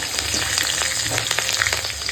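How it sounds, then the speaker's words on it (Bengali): Nigella seeds sizzle and crackle in hot oil left from frying fish, a loud continuous frying hiss with scattered pops, close by and without any talking. "মাছ ভাজার তেলে এখন কালো জিরে ফোড়নে দিলাম"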